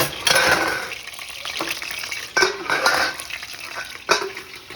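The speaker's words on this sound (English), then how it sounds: "And because you're frying, I'm sure everybody knows there's oil in it." Chicken frying in oil in a pan, a steady sizzle punctuated by clinks and scrapes of utensils against the pan, close and moderately loud with no talk.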